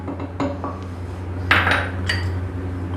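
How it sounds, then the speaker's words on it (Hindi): Fresh coriander and mint being pounded in a mortar with a pestle for green chutney, giving sharp, close clinks and knocks at irregular moments over a low hum. "सबसे पहले लेंगे कुंडी और डंडा, इसमें डालेंगे हरा धनिया"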